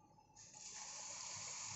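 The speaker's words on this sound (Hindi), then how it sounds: "पानी डालिए," Water is poured into a very hot pan after moong dal has been roasted light brown. It starts with a sudden loud sizzling gush, then a steady hiss that lasts to the end.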